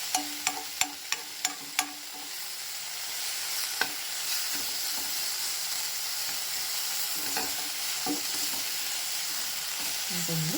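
Mint leaves fry in a pan for coconut chutney, giving a loud steady sizzle. A quick run of sharp spatula taps comes at the start, then occasional stirring knocks, all close by.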